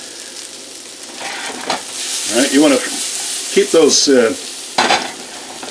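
Potatoes, onions and garlic sizzling steadily in a hot pan while being stirred, with scraping bursts of the utensil; someone speaks briefly near the start.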